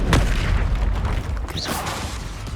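Confringo explosive spell blast in Hogwarts Legacy, a sharp booming burst at the start followed by a rumbling tail and a brief swooshing magical whine, loud and close with no talk.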